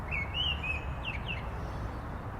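A mistle thrush sings in Kensington Gardens, a London park, with a few clear, fluting whistled phrases at moderate distance over a steady low hum of city traffic.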